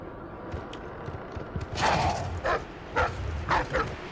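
A dog in the video game Dishonored 2 barks in a quick series of sharp woofs after a quiet stretch, moderately close, with faint game ambience underneath.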